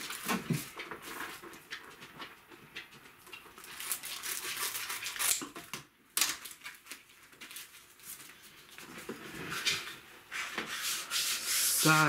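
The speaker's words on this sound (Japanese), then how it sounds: "400番から1200番まで、磨いていきたいと思います。" Birch wood kuksa cup hand-sanded with fine 400 to 1200 grit sandpaper: steady close rubbing strokes in a continuous rhythm, with a brief pause midway before the scratchy friction resumes.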